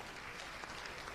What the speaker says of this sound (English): Let's give them another hand of applause